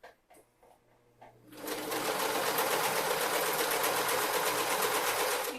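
A sewing machine runs a cover stitch over 3/8 inch elastic for swim bottoms, starting after a few soft handling taps and then whirring steadily and loudly for several seconds without a break.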